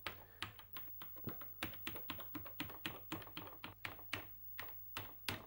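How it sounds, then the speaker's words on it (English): Keys are pressed rapidly and irregularly on a Philips P2000T computer keyboard during a keyboard test, producing crisp, close clicks and clacks over a faint low hum with no talking. "let's do a keyboard test"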